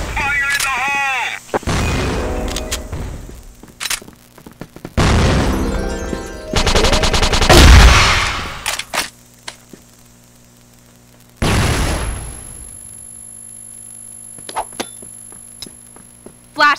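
Grenade blasts and gunfire in a shooter video game come in several loud, broadband bursts separated by quieter gaps, with a voice heard briefly near the start.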